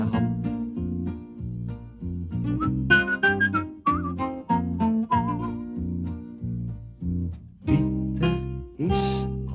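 Cartoon theme song with a bouncy band backing and a clear melodic whistle weaving through the middle, loud and steady over the music.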